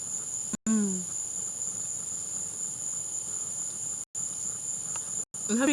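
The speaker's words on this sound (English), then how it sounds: "I hope you guys like the ASMR with the cicadas and the grasshoppers and my eating sounds" Steady insect chirping from cicadas and grasshoppers fills an outdoor evening scene at sunset, a continuous shrill drone with a high whine on top, broken by brief cuts, and a faint rising whistle or squeak in the foreground.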